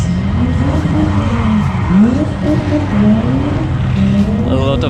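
Mazda RX-7 drift cars work a wet circuit at a drift event, their engines droning steadily with rising and falling revs as they slide past, loud and continuous throughout.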